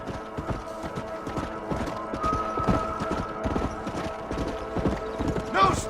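Horses galloping in Red Dead Redemption, rapid clip-clop hoofbeats from several animals in a steady running rhythm, fairly close, with a whinny near the end and voices faintly underneath.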